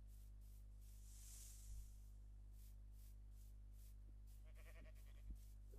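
A single quiet sheep bleat in a video game sounds near the end, over a faint steady background hum, with no talking.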